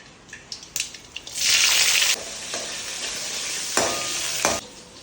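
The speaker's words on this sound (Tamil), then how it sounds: "ரசம் செய்யறதுக்கு தேங்காய் எண்ணெய் தான் ஊற்றணும். கடுகு, பூண்டு, வெங்காயம், வரமிளகாய்." Mustard seeds, garlic, onion and dried red chilies hit hot coconut oil for a rasam tempering, giving a close, steady sizzle with stirring clatter and a few sharp pops and spits.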